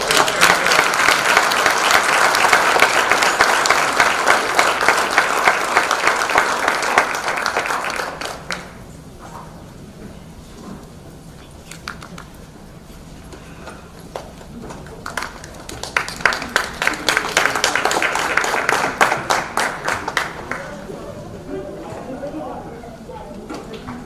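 A school board meeting audience breaks into loud, sustained applause that cuts off abruptly, followed by a quieter stretch with talking, then a second shorter burst of clapping that fades back to speech.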